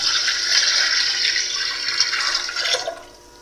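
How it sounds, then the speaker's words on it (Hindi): Water poured into a wok for cooking soaked rice, a steady hissing splash that runs for about three seconds before tapering off, close and fairly loud with no talking. "कढ़ाई ली है, इसमें हम पानी डालेंगे।"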